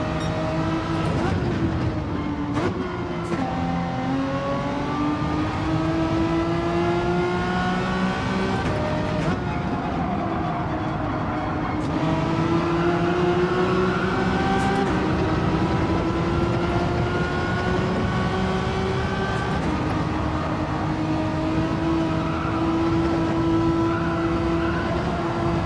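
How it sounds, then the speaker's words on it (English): Gran Turismo 7 racing car cruising on a mountain course, a steady engine drone with harmonics slowly climbing and falling as it accelerates and shifts, continuous and fairly loud throughout. "The car is driving itself."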